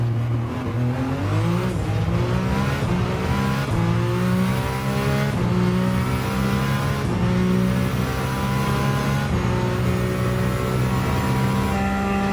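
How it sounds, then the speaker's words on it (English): A Group 1 prototype race car's V6 engine in Gran Turismo 7 roars steadily at high revs, climbing through gears with repeated upshifts and brief dips, loud and close, with a faint tire squeal. "Oh, listen to the V6."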